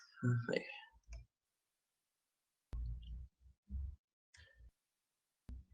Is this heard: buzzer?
no